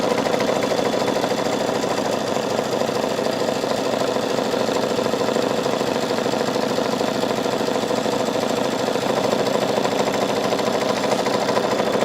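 A Kimberbell embroidery machine stitches a tack-down, giving a steady, fast mechanical whirr and rapid needle chatter that holds constant and loud throughout.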